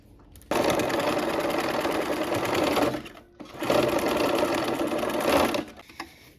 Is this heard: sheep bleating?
no